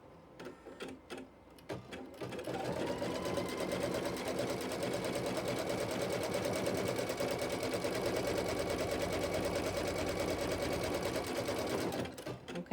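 A domestic sewing machine stitches a flying geese quilt block, starting with a few clicks of needle positioning, then a steady, close, fast run of stitching for about ten seconds before stopping.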